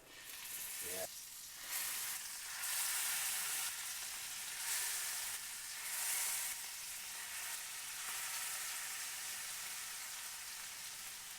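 Scallops searing in a hot cast iron pan give off a steady, close sizzle and crackle that runs throughout, with brief stirring or handling noises over it.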